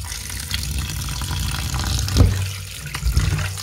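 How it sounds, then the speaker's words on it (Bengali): Raw mutton rinsed under a running kitchen tap, with a steady gush of water splashing into a sink throughout, swelling briefly near the middle and end. No voices. "এটা আমি প্রথমে ধুয়ে নেব মাটনকে"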